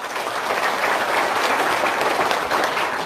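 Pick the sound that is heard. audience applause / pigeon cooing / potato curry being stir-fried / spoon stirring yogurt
audience applause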